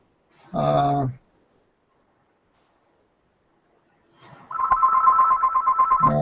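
A telephone rings in a room during an online meeting, giving a single loud electronic ring after a brief silence, then a longer warbling ring that continues to the end, with a voice briefly heard at the start.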